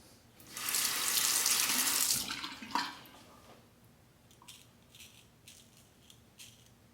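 Parker adjustable shavette razor rinsed under running tap water, a strong hissing stream for about two seconds, then a clink and quiet drips, taps and rattles as the razor is handled, close with no talking.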